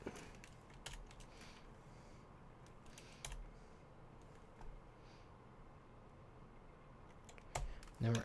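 Quiet, scattered clicks of typing on a computer keyboard while Python code is entered, sparse keystrokes in a soft bursty rhythm, faint and close, ending in a louder clack.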